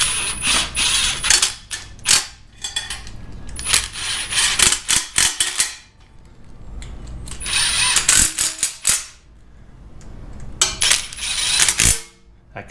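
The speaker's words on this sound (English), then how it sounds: "Okay, we got all our bolts started. Just gonna run them down" A ratchet clicks in quick, steady runs while bolts are driven down on cheap eBay LS-swap exhaust headers. Several bursts of close metallic ratcheting are separated by short pauses, with no talking.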